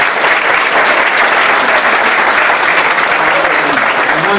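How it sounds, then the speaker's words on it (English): A crowd gives sustained, dense applause at a university tribute gathering, loud and close, a continuous wash of clapping throughout with a faint voice or two rising near the end. "So everybody, please, round of applause for Heather."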